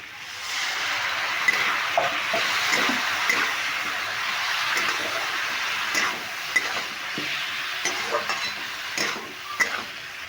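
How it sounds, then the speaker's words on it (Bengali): Spice paste and potatoes are stir-fried in a pan for a cabbage ghonto, a continuous close sizzle broken by scattered scrapes and knocks of a spoon against the metal, with no talking. "সমস্ত মশলাগুলো দিয়ে বেশ সুন্দরভাবে মশলাটা আলুর সঙ্গে নিয়ে কষিয়ে বেশ কষিয়ে নেবো"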